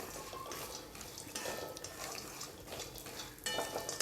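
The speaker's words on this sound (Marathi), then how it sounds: "बदामाला थोडेसे असे डाग पडले की लगेच मी त्याच्यामध्ये काजू ॲड करते. काजूनं थोडेसे मी परतून घेते" Cashews and almonds roasting in a little ghee in a pan, with a steady soft sizzle and stirring scrapes against the pan, moderately close, with no talking.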